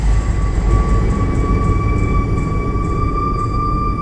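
A busy platform at Chennai Central railway station in daytime, with a steady, loud rumble of trains and a sustained high whine running throughout, no voices.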